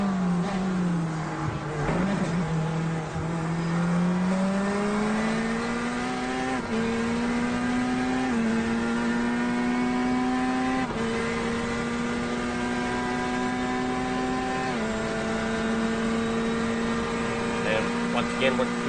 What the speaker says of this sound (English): Watch these gears strip down.